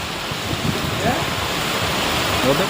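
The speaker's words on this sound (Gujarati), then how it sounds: "અત્યારે જે વરસાદ શરૂ થયો છે પાંચથી દસ મિનિટ થઈ" Heavy rain pours down in a Gujarati village, a steady broadband wash of water that stays loud and continuous from start to finish with no voices over it.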